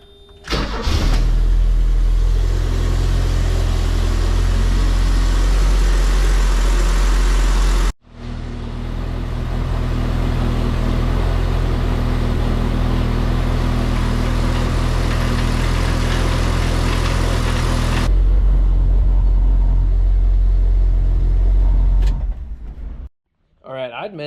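A Ford Courier engine cold-starts after hand priming, then runs with a loud, steady idle and a brief cut near the start, continuing until it shuts off at the end.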